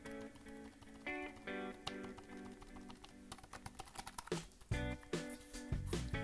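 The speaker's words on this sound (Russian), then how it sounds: "Кнопки нажимаются мягенько и без звука." Soft, quiet key presses on the keyboard of an Onda C270 all-in-one PC: irregular light taps that speed into quick bursts toward the end, over a faint tonal background.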